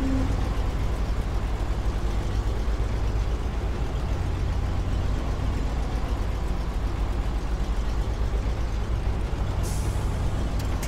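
In the video game SnowRunner, a truck engine drones heavily as it strains to pull a load on all-terrain tyres, a constant loud low rumble throughout with a brief hiss near the end.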